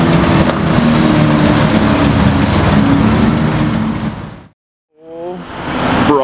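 A silver Porsche 911 GT3 of the 992 generation sweeps past on the street with a loud, rising engine roar that cuts out abruptly, then returns as a higher revving note.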